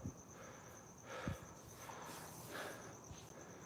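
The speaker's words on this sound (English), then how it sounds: "Hear those crickets? Crickets sound good." Crickets chirp outdoors at night near a backyard tree, a faint steady high trill running throughout, with a few soft thumps and rustles close by.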